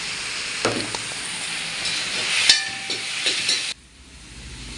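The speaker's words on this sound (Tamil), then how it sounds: "இந்த வெங்காயம் தக்காளிக்கு கொஞ்சமாக உப்பு மட்டும் இதில் நம்ம சேர்த்து நல்லா வதக்கி விட்டுக்கலாம்" Onions and tomatoes with a little salt sizzle and hiss steadily in a hot pan, close and continuous with occasional stirring scrapes, then the frying drops to a quieter simmer near the end.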